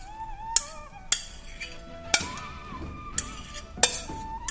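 Utensils clink against a dish while tofu is tossed with chopped scallions, about six sharp separate clinks and scrapes at a soft steady level, with no talking.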